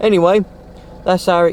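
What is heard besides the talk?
No everyday noise stands out behind the speech.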